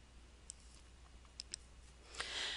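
Computer keyboard keys clicked during a webinar, a few sparse light taps spread across the moment, quiet and close, followed by a brief rustling burst near the end, with no talk.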